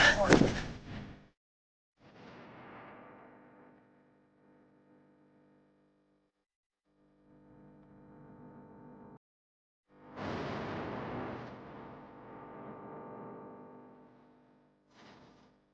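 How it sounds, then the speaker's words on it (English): Rifle gunfire during a police shootout with an AR-15: loud sharp bursts at the start and again mid-clip, separated by quieter stretches of shouting voices. "Shots fired! Shots fired!"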